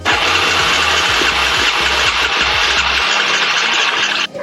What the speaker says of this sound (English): We are ready to see if this thing cranks.